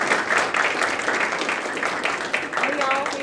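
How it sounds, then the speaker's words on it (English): Audience applause at an evening speaker series event, a steady broadband wash of clapping sustained throughout at moderate volume, with a faint tonal whistle or squeak near the end. "Let's give him another round of applause."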